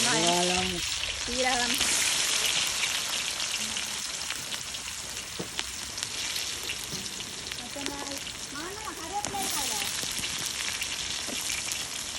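Mustard seeds and fenugreek fry in hot oil with a continuous crackling sizzle, while a voice is heard at moments over the cooking.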